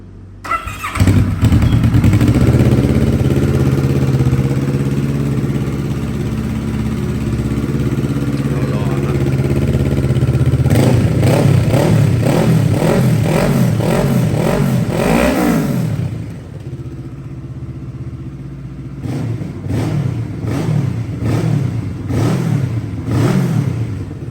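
A 2012 Kawasaki ER6n motorcycle fitted with an Akrapovic exhaust fires up and idles loudly and close, then is revved in several sharp rising bursts before settling back, with more throttle blips near the end.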